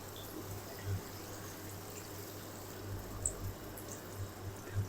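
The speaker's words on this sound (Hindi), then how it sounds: "अब हम इसके अंदर ऐड करेंगे 2 कप पानी" Two cups of water are poured into chicken gizzards cooking for a pota karahi, a faint, steady liquid pour over low kitchen hum, with a few soft splashes.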